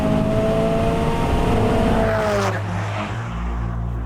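A Mitsubishi Evo VIII race car accelerates hard on a flying lap at a track, its engine loud and rising in pitch before a shift, then droning on strongly with no talk.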